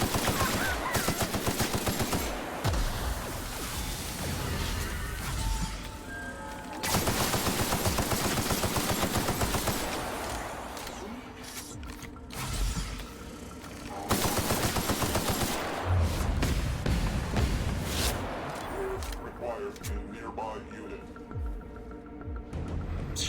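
Gunfire in the video game The Outer Worlds, repeated bursts of rapid automatic shots in long stretches with brief pauses, plus plasma-weapon blasts, loud and close, with occasional talk over it.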